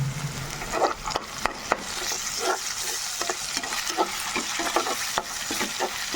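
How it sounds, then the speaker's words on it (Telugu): Ginger frying in a pan with tomato rice, a steady close sizzle broken by repeated scraping and clinking as a spoon stirs it around. "అల్లం కూడా పచ్చి వాసన పోయే వరకు ఫ్రై చేసుకోవాలి"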